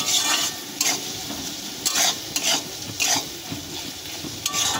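Masala with melted tomatoes sizzles loudly in a pan for Kashmiri aloo dum, with rhythmic spatula strokes scraping and stirring about once per second over a constant frying hiss.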